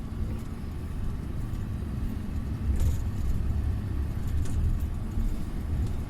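Truck engine while driving on the road, a steady low rumble with constant road noise inside the cab, with faint rattles now and then and no talk.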